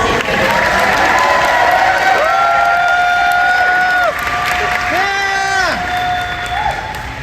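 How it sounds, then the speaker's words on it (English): Steady, dense applause at a cosplay competition fills the whole stretch, loud and close, with sustained tones and a voice carrying over the clapping. "One more round of applause."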